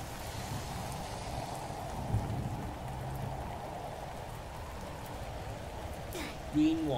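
Acid rain falling in Roblox Natural Disaster Survival, a steady dense patter of rain filling the whole stretch at moderate loudness, with a brief game tone near the end.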